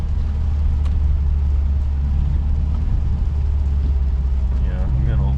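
Steady, close car engine drone and road rumble at highway speed on a test drive, continuous throughout with faint higher whines near the end.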